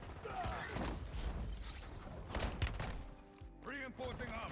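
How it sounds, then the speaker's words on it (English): A new magazine is reloaded in the video game Call of Duty: Black Ops 7, with quick mechanical clicks and clacks amid bursts of gunfire, all close and moderately loud. "Loading new mag."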